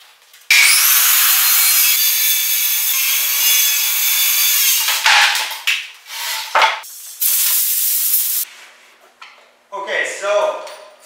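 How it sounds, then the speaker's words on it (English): A saw cutting through plywood while building a DIY big round hay feeder, one long loud continuous cut of about eight seconds, close up, followed by shorter bursts and pauses with some talking. "we cut our plywood 80 1/4 this way"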